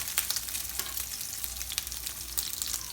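Crab cakes fry in a pan on a stovetop, a steady close sizzle and crackle with bright spitting pops, no voices.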